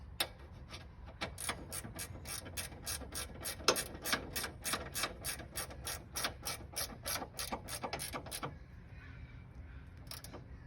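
A ratchet tightens the bolt on a Mazda Miata horn, giving a long run of rapid, evenly spaced clicks up close that stop shortly before the end, leaving a quieter tail.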